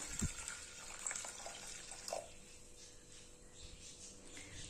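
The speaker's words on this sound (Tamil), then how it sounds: "இதுல தேவையான அளவு தண்ணி சேர்த்துக்கலாம்." Water poured into a pressure cooker holding cowpeas, a faint splashing and trickling stream with a few brief louder gushes, quiet and close in a home kitchen.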